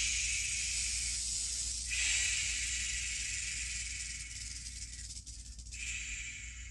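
A rattlesnake rattles in a continuous, dry, buzzing hiss, close and fairly loud, swelling and easing briefly but never stopping.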